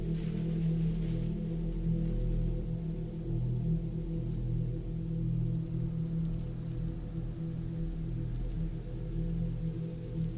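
Steady rain in the woods, a dense continuous wash of falling drops at even loudness with no talking.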